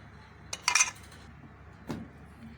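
A metal spoon clinks against a dish while milk is spread onto bread in a home kitchen: one bright, close clink followed a second later by a softer tap, in an otherwise quiet room.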